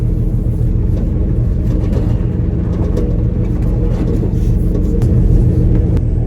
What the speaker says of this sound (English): when you pull out on the main road in a truck that's untested and hasn't run for 8 years